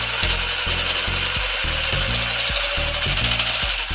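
Jigsaw fitted with a hacksaw blade cutting, a close rapid reciprocating rasp in regular bursts of about a half second each, rhythmic and steady, no voices.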